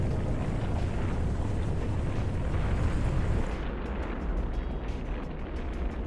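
A two-stage orbit rocket lifts off in a game cutscene: a broad, roaring rumble holds steady and loud, then drops into a lower, thinner thundering wash as the launch recedes, with no voices.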